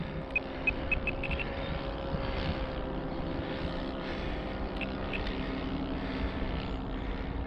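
An H-King PC6 Porter balsa radio-controlled plane flies overhead, its electric motor a steady, moderately distant buzzing drone that swells and fades slightly, with a few faint beeps near the start and no talk.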